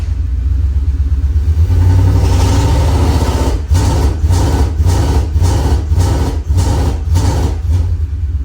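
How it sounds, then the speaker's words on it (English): A V8-swapped 2018 Toyota Tacoma 4WD revs while being brake torqued, a steady loud engine drone with rhythmic pulsing surges, close by and with no voices. "That's just sitting there brake torquing it, and that's all it does."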